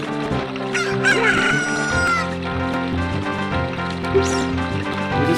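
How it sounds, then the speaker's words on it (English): A chicken crows loudly in the video game Zelda: Ocarina of Time, a cock-a-doodle-doo call and clucking over steady background game music. "to wake him up, we gotta use the chicken"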